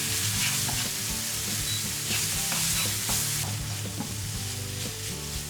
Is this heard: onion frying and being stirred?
yes